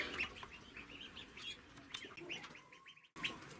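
Crested ducks in a village farmyard give short chirping and clucking calls, repeated through the stretch, with other fowl nearby and a brief pause near the end.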